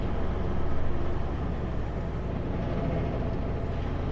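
A truck's air brakes being checked, giving a steady loud hiss of escaping air over the rumble of the idling rig, close by and with no talking.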